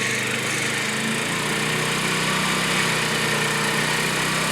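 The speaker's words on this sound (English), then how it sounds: "You doing burnouts with the mower?" A lawn mower engine roars loud and steady up close under heavy load as its wheels spin and dig ruts, a continuous buzzing drone with no pauses.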